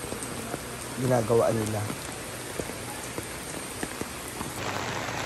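Steady rain patters on a surface throughout, with a brief burst of speech near the start rising above the hiss.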